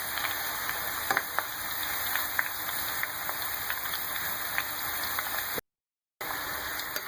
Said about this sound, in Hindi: तो देखिए फ्राई हो रहे हैं बहुत ही मज़ेदार से क्रिस्पी सल्फर जो है हमारे चिप्स